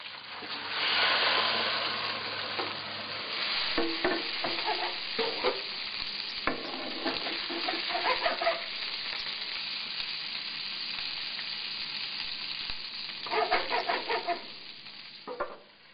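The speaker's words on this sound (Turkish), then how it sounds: "İlk önce kızgın yağ bir tarafını bol yağda atıyoruz." Fish frying in plenty of hot oil in a pan in a restaurant kitchen, a steady loud sizzle running throughout with scraping and clattering bursts of utensils, no talking.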